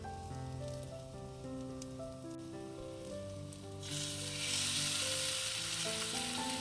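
Ground roasted spice paste hits the hot pan of Kerala-style brinjal curry and sets off a loud, bright sizzle about two-thirds through, rising over a steady background of tonal music.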